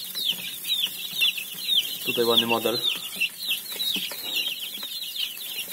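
Young three-week-old Brahma chicks and cockerels cluck and cheep in a brooder, a busy stream of high chirps with someone speaking briefly in the middle.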